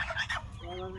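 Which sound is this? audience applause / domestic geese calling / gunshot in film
domestic geese calling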